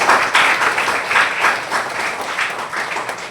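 A congregation at a Sunday mass in a church applauds, with dense, even clapping that stays steady for a few seconds and swells and fades slightly.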